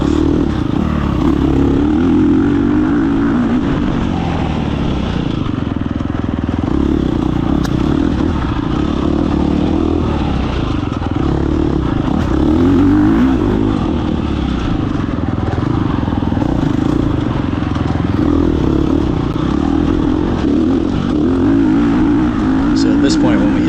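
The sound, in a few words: dirt bike engine during hare scramble race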